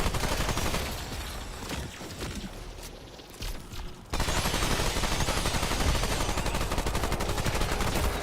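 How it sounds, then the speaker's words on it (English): An SMG in Remnant 2 fires a fast rattling burst, pauses briefly, then unleashes a long steady stream of rapid shots, loud and close with mechanical clatter. "It's basically an SMG."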